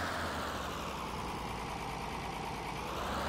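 A Zetor tractor engine runs in the Farming Simulator 15 game, a steady idling drone with low rumble and constant hiss, unchanging and close throughout.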